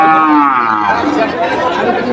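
A Brahman cow lows with a long, loud, drawn-out moo at a crowded cattle market in Habibpur, Barishal, as people chatter in the background.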